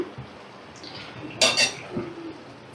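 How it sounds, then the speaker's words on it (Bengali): A spoon stirs papad into a pan of eggplant and taro dalna. Quiet background with a few soft scrapes and one brief burst of metal clinking against the pan near the middle. "পাঁপড়গুলো দিয়ে আমি কিছুক্ষণ একটু নাড়াচাড়া করলেই রান্নাটা একেবারে রেডি হয়ে যাবে।"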